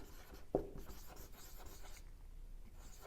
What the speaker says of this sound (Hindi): देखो मैं यहां पर लिखता हूं